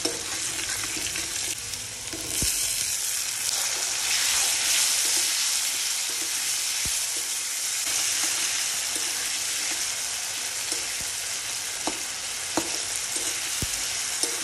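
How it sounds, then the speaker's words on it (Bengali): Spices and chopped tomatoes fry loudly in a pan, a dense continuous sizzle that holds steady throughout, with occasional faint taps of a utensil stirring and no talk. "ভালো করে ভেজে এর মধ্যে আমি কেটে রাখা টমেটো অ্যাড করে দেবো।"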